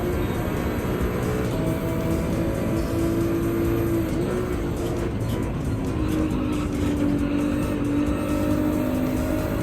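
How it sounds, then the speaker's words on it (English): V6-engined car races on a wet track in the video game Gran Turismo 7, its engine note rising and falling through gear changes at steady loudness. "you're hearing a V6, but it's not a GTR. Guess again. It is a V6."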